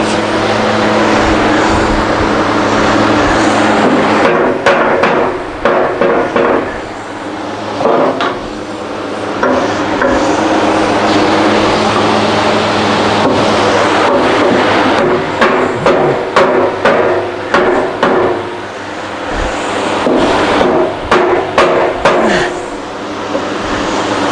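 Loud hammer blows strike repeatedly in uneven bursts during Grizzly bandsaw assembly, some quick runs of hits and pauses between, over a constant engine-like drone.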